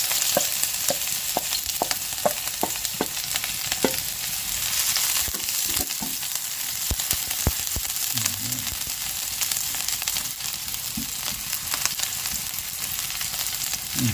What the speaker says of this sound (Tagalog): kisa lang po natin yung ating bawang sibuyas